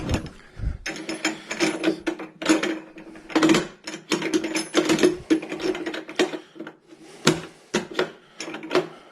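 Bolts being tightened on a Rotopax spare tire mount for a Geo Tracker, a close, steady run of metallic ratcheting clicks in quick repeated bursts that continues throughout with brief pauses.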